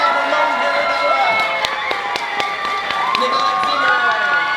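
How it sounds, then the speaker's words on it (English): An audience at a Halloween Horror Nights event cheers and claps loudly for panelists coming onstage, a dense roar of crowd noise with whoops and shouts, close and continuous. "let's give a warm round of applause for all the rest of our panelists"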